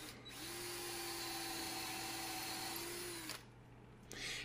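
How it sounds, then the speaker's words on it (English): A power drill pre-drills holes in wood for screws in the bracket of an Adirondack-style rocking chair, giving a steady whine that holds for about three seconds and then stops, with a brief restart near the end. "So we'll pre-drill."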